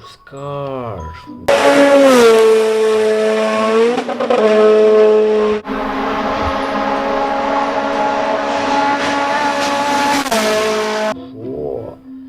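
A sports car revs hard, its engine note climbing and holding in a strong harmonic whine for several seconds with brief dips between pulls, loud and close, with a short tonal sweep before and after.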